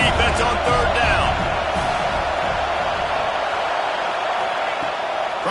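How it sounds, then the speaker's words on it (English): A stadium crowd in NCAA 26 college football, Auburn against Alabama, roars steadily on third down, a dense, constant wall of cheering with an announcer talking over it. "Decibels rising as the crowd gets behind this defense on third down."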